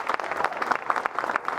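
Audience at an awards summit applauding, a lively mix of many claps with a few sharper individual hand claps standing out, fairly close and loud, no talk over it.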